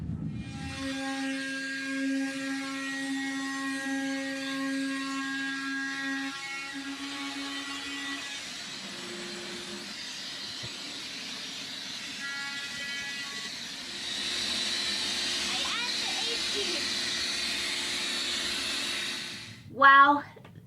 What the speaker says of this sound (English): I gotta turn the vacuum on